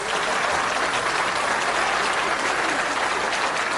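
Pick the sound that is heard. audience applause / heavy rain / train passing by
audience applause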